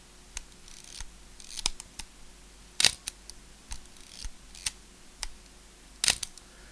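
A Pentax ME Super film camera fires its shutter several times, giving sharp mechanical clicks and snaps close to the microphone. Smaller ticks of handling and winding fall between them in a quiet room.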